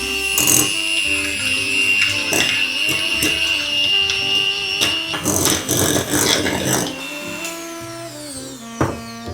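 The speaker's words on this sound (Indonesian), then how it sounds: "Oke, langsung sekarang kita masukin butter ya dan juga margarin. Langsung kita whisk pakai speed medium aja." An electric mixer whisks butter and margarine at medium speed, giving a continuous mechanical whir with clattering, scraping bursts as the beaters knock around the bowl, no voices heard.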